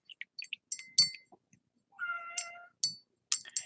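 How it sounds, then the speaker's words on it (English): A house cat meows and cries in several short, separate calls, with a few quiet clinks and bumps in between, indoors during a gouache painting session. "Can you guys hear my cat crying?"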